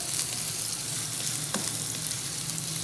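Onions frying in hot ghee in a pan for mutton curry, a dense, even, close sizzle that holds steady throughout with one faint stir click partway through.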